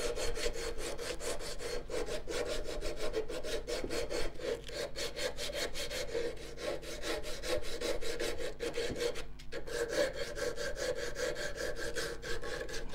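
A wooden wand clamped in a vise is sanded by hand with 80 grit sandpaper, giving a steady, close, rasping scrape that continues without a break and with no talking.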